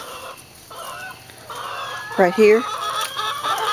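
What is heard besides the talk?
barred rock chickens clucking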